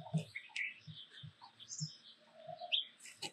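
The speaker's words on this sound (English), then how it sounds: "There's really birds everywhere, all around me." Birds in a desert garden chirp and tweet from several directions, with short bright calls and low soft coos, fairly faint against a quiet outdoor background.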